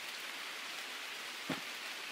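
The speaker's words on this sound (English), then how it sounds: "Gonna get rained on." Steady rain hisses throughout in the survival game Green Hell, a continuous even wash of falling drops with one brief louder thump partway through.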